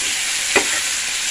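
Spices with salt and turmeric sautéing in a pan give a steady close sizzle with one brief scrape of stirring midway, no voices.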